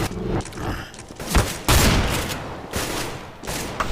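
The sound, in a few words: gunshots in a video game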